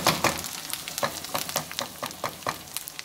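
Onions frying and browning in a pan for Indian cooking, a steady crackling sizzle broken by frequent sharp spits and pops at an irregular quick rhythm, close and fairly loud with no talking.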